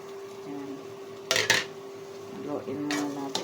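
Utensil scraping and clinking in a cooking pot while stirring sotanghon glass noodles for a patola dish, two brief louder clatters between quieter stirring, with faint background hum.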